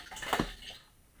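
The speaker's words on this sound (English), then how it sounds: "Can get more water, and it's filling the tank up." Water rushes and splashes briefly into a 30-gallon tank with a float valve, a short gush that fades to a quieter trickle.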